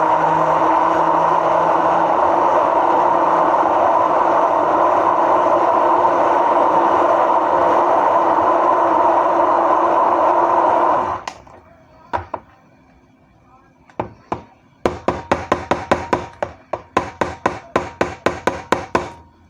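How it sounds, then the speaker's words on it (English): A stick blender purees canned tomatoes for crockpot taco soup in a steady loud whir lasting about eleven seconds, followed by rapid clattering taps of the blender against the pot. "we are going to use the stick blender. And here is our stick blender that we're going to use, and we're going to liquefy the tomatoes"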